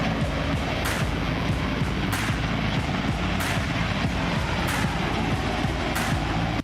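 A Black Hawk helicopter during a troop landing, its engines and rotors producing a dense, loud roar with a pulsing beat and sharp bursts throughout, close by and without voices.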